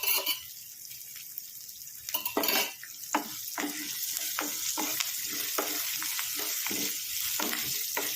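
Tempering (popu) spluttering in hot oil for a traditional gongura curry, a loud close sizzle with repeated sharp crackles and spatula scrapes against the pan.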